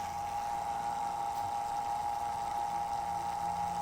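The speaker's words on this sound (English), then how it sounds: "if you've ever tried to hand pump this stuff, you know just how viscous 80-90 can be" A hand pump draws thick 80-90 gear oil during work on a Jeep XJ long arm kit, giving a steady, continuous mechanical hum with a constant tone and no talking.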